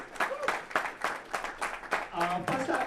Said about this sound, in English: Please give a huge round of applause for each one of you.